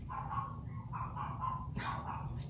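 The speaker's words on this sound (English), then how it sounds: "Dog's barking." A dog barks repeatedly in short bursts, somewhat distant and muffled, over a low background hum.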